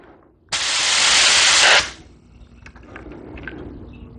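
A Paasche HG-08 touch-up spray gun releases one burst of paint spray, a loud, close, steady hiss lasting just over a second before cutting off, followed by faint handling noises.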